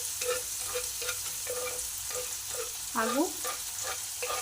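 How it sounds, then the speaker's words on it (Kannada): Mustard seeds, cumin and chopped onion fry in hot oil for an aloo paratha filling, giving a steady close sizzle with rhythmic stirring taps and a brief voice near the end. "ಸಾಸಿವೆ, ಜೀರಿಗೆ, ಕಟ್ ಮಾಡಿಕೊಂಡಂತಹ ಈರುಳ್ಳಿಯನ್ನು ಹಾಕಬೇಕು"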